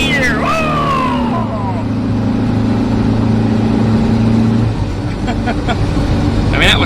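VW Type 3 car with a running fault accelerating in high gear on a back road, a steady mid-pitched engine drone heard from inside the cabin with a pitch that climbs and holds, loud and continuous.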